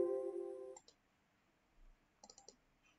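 A few soft computer mouse clicks sound while working in SOLIDWORKS: one click, a pause, then a quick cluster of three, faint in a quiet room.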